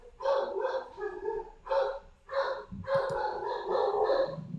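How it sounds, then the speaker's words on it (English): A dog barks in repeated bursts of yips and bow-wows in the background, moderately loud, with brief pauses between flurries and no talk over them. "Dog's going nuts in the background."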